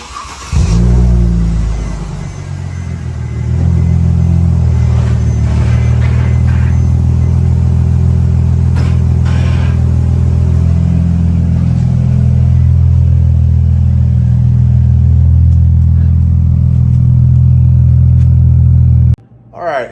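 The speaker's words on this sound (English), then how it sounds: "So now that the exhaust is back on the car, let's go take it for a quick spin." Mercedes C300 with an M272 engine and custom-built double H-pipe exhaust, a deep loud rumbling idle and revving drive with rising and falling engine tone, sustained up close before cutting off abruptly near the end.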